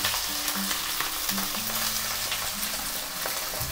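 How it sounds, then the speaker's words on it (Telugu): Mutton pieces frying in a hot pan for a home-style mutton fry, with a loud, continuous close sizzle and occasional stirring scrapes. "ఇప్పుడు మనం వెంటనే ఏం చేసుకుందాం, మటన్ వేసేసుకుందాం."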